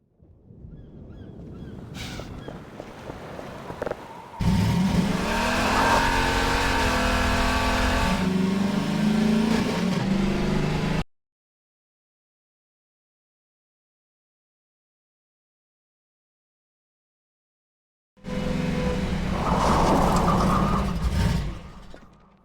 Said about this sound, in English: The audio for the buggy was challenging because we wanted it to feel like a really powerful vehicle that's driving along at super high speed